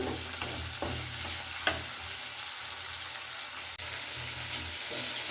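Onions fry in a pan with a steady, close sizzle, broken by a few spatula scrapes and stirring knocks, including a sharp tap toward the end.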